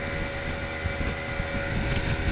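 A 1995 Seaswirl Striper 2150 center console boat engine at about 4,700 RPM, holding a steady high drone with wind and water rush over it, continuous and fairly close without talk.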